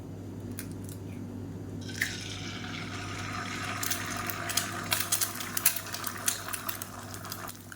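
Egg omelette batter meets hot oil in a pan: a soft hiss swells into steady sizzling, dotted with sharp crackles and pops that grow busier over several seconds. No one talks.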